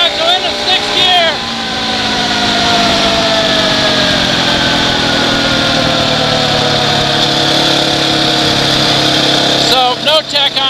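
Husqvarna 701 Enduro motorcycle engine pulling hard through the upper gears, a loud sustained whine rising in pitch with shifts, under wind rush, with a rider speaking briefly at the start and end.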